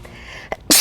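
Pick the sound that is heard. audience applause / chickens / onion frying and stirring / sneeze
sneeze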